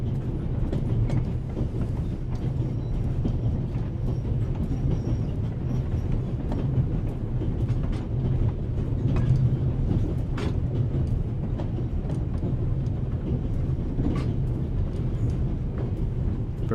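A steady, continuous rumble of a train rolling along rails in The Raven Remastered, with a low droning roar and faint rhythmic clatter throughout and no voices over it.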